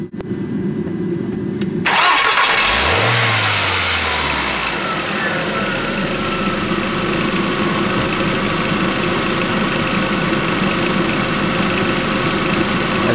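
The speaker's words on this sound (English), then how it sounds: "Suppose we start the engine." A car engine cranks and fires up with a loud roar, then settles into a steady, continuous running drone, heard close and alone with no talking.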